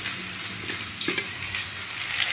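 Tap water runs steadily into a kitchen sink while coriander leaves are rinsed under it, a constant hissing splash with a faint clatter partway through and no talking.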